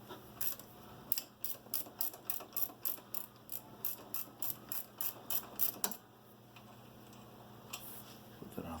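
A ratchet clicks in a steady run of about fifteen sharp strokes as rear caliper bolts on a HISUN 250 are loosened, followed by quieter handling and a final short burst of clicks.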